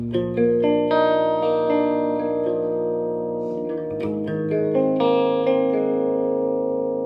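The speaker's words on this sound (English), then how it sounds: "Turn the reverb all the way up for something a little more chimey." An electric guitar plays through a Monoprice 15W amp with the reverb turned fully up, giving ringing, chimey chords and notes with a long wash of reverb. It is loud and close, with no talking.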